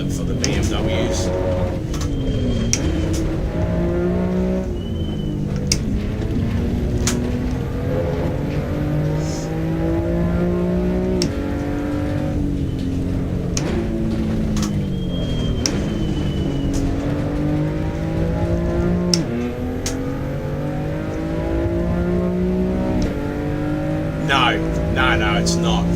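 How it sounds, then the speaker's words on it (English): BMW race car engines in the iRacing sim, rising and falling through gear changes with a steady, loud droning rev throughout a long stint, while someone talks over the racing. "I really don't know what iRacing did with the sound for the engine sounds for the BMWs."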